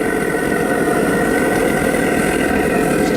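A homemade propane torch burns inside a small foundry, producing a loud, steady roaring rush that holds constant and close without a break.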